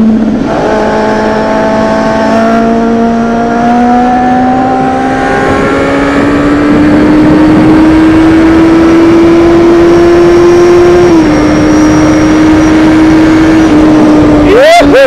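Kawasaki Z750 motorcycle accelerating hard uphill in fourth gear, engine note climbing steadily for most of the run before a brief shift, loud and close with wind rush, a rider's voice occasionally audible.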